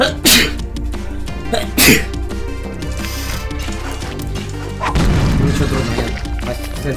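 A person sneezes twice in quick succession while playing the Super Meat Boy platform game, the loud bursts landing over game music and crashing effects, with someone talking briefly afterward.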